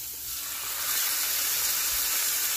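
Washed steak sizzling as it is laid into a hot pan, a loud hiss that swells and holds steady, with no talking.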